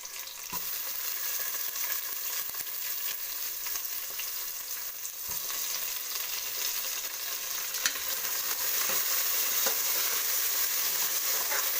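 Onion and tomato fry in a pan for beetroot sambar, with a soft, steady sizzle and occasional light stirring clicks, heard close and alone.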